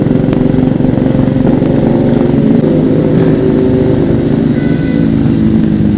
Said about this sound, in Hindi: दो तीन बाइक्स की वजह से क्रेजी साउंड कर रहा है।